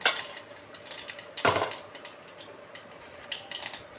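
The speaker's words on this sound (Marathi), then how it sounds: "फोडणीसाठी आपण मोहरी घालून घेऊ जिरे घालून" Mustard seeds and cumin tipped into a pan of hot oil for tempering dal bhaji made with ambadi, giving a sharp burst of crackling and clinking near the start and middle, then lighter scattered pops and ticks.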